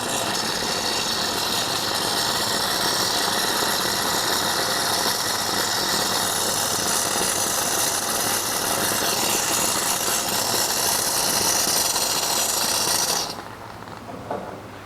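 An Allegra Luce one-group espresso machine pump drawing in water through its inlet hose, a loud, steady buzzing hum with a hissy edge that runs unbroken for about thirteen seconds before cutting off to a quieter background.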